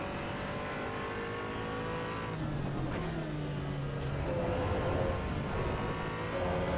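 A race car in Assetto Corsa Evo, engine droning steadily and shifting pitch as it revs up and changes gears, with tire noise underneath, heard continuously without voices.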